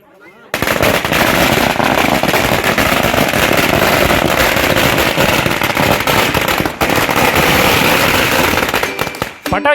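A long string of firecrackers at a family housewarming celebration, a dense, loud, continuous crackling barrage of rapid pops lasting about nine seconds before stopping abruptly.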